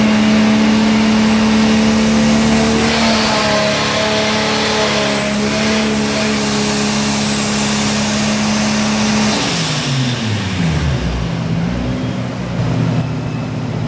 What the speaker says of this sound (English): just going through the RPM range and getting the partial throttle tune really ironed out